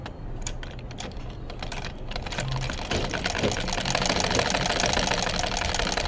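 A sewing machine stitches a strap onto a hijab face mask, giving a steady, close mechanical rattle of rapid needle strokes that grows slightly louder partway through.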